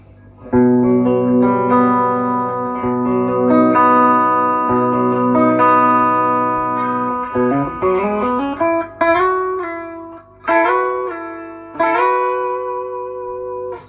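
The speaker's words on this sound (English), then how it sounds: "Have a little bit of reverb on, so you can hear that you can play pretty nice lines with this guitar." An Ibanez Apex 2 electric guitar plays melodic lines with reverb, sustained notes and bends ringing out, then a few shorter phrases with pauses between them.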